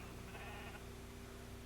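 A sheep bleats once, a short wavering cry rising above a steady low hum of background noise, heard on its own without talk.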